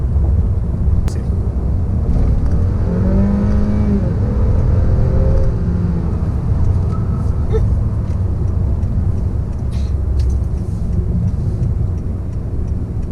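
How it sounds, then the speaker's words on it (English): A Honda Accord Touring pulls away from a dead stop onto a highway, its engine note climbing steadily through the pull beneath a loud, continuous cabin and road rumble. "So I will do an acceleration from a dead stop now."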